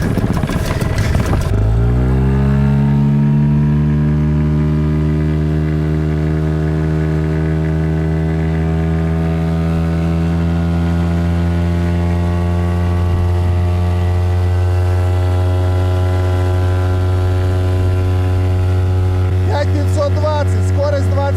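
A Tohatsu outboard boat motor running on 92-octane gasoline starts up with a brief cranking burst, then settles into a steady, loud, close droning hum with strong harmonic tones that hold for the rest of the clip.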